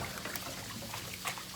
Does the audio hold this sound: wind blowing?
no